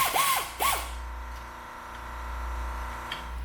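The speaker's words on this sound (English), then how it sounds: "Here, I'm just installing the bolts that hold down the slider for the throttle." Bolts being installed to hold down the throttle slider on a 1982 Mercury 40hp outboard powerhead: two quick ratcheting tool bursts at the start, then a steady low hum with a faint click near the end.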